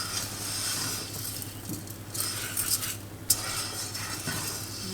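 Rice being gently stirred with a little oil and onions in a pan for risotto, a quiet continuous sizzle with soft scraping and one small clink of a utensil.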